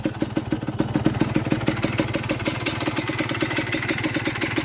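A Kawasaki KMX 125 two-stroke motorcycle engine fitted with Boyesen power reeds, a ported cylinder and a 28mm carburetor, heard up close on a test ride with a steady, rapid, rattling engine beat at a fairly constant pace.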